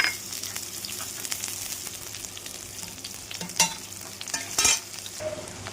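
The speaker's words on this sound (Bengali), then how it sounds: "তেল গরম হয়ে এসেছে, এখন দিয়ে দিলাম পেঁয়াজ কুচিগুলো" Chopped onions frying in hot mustard oil in a kadai, a bright continuous sizzle with scattered crackles and a couple of louder stirring scrapes near the end, close up with no speech.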